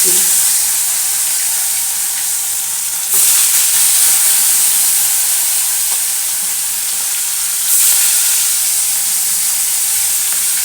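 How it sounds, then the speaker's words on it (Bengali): Fish coated in salt and turmeric fries in hot oil in a kadai, giving a loud, constant, close-up sizzle with a couple of brief swells in intensity. "মাছ ভাজার জন্য গরম তেল বসিয়ে দিয়েছি তো এখন মাছগুলো ভেজে নেব"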